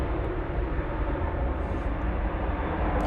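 American Airlines Boeing 737-800 jet rumbling steadily at the airport, a loud, continuous broadband roar with a low rumble that holds level throughout, no talk over it.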